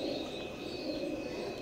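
A pair of baby Omani zero-feather Teddy pigeons give a soft, brief coo over a steady background hum.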